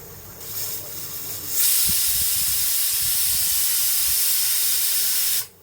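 Pressure cooker whistle releasing steam while mutton cooks Bengali style, a loud sustained hiss that starts abruptly, holds steadily for about four seconds and cuts off sharply.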